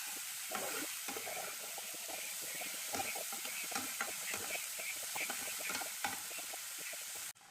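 Onions fry in a pan for a paneer curry, giving a steady soft sizzle with frequent scraping and clinking stirring strokes throughout, close up and without talk, ending abruptly.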